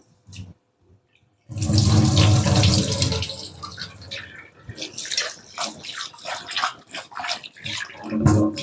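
Running tap water pours into a bowl of flattened rice (poha, aval) being washed, starting after a short quiet moment, then gushing loudly before breaking into uneven splashes and sloshing as the rice is stirred by hand.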